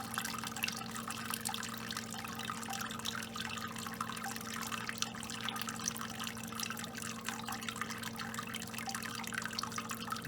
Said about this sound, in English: we'll just let the grain bed drain as much as we can